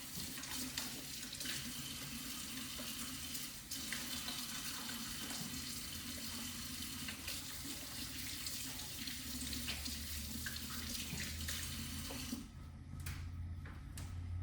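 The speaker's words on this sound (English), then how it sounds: "I'm gonna wash my hands real quick" Water runs steadily from a kitchen faucet into the sink while hands are washed beneath it, a continuous close rushing hiss for the whole stretch with a brief change in flow near the end.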